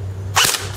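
A single sharp crack from an H&K Ares G36c airsoft rifle firing a 0.2 gram BB in semi-automatic, with a steady low hum underneath and no voices.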